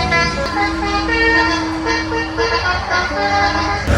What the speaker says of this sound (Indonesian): Ada bis tuh.